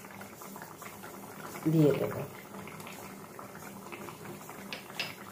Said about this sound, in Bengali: দেখুন ঝোলটা আমার একদম ফুটে গেছে